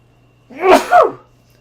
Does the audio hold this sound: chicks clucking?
no